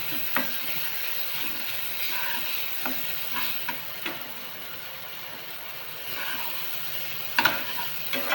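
Asafoetida dropped into hot oil in a pan while making masala vangi bhaji, giving a steady close sizzle with a few light stirring clicks and scrapes, no talking.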